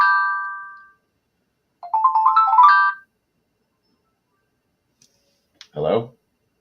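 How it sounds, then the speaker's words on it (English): A phone gives a short electronic ring tone, then another melodic ringing burst, followed after a pause by a brief voice answering. "Now it's ringing."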